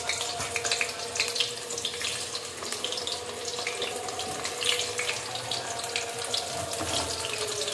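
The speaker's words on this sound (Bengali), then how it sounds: "তেলটি গরম হয়ে গেছে, এখানে আমি আলুগুলো ছেড়ে দেবো আস্তে আস্তে।" Potatoes frying in hot oil for a Kolkata-style chicken biryani give a steady, dense sizzle that holds at an even level throughout, close up and without talk.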